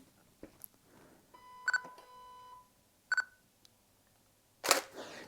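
A camera with its flash turned on takes a shot, with electronic beeps and a sustained tone, two sharp shutter clicks and a final louder snap, all heard close with no talking.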